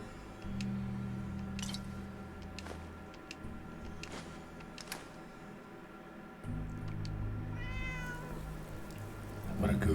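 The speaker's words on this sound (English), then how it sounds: "What a goof, I thought that was my cat." A cat in a video game meows faintly a couple of times amid a low droning background, with a brief rising call near the end.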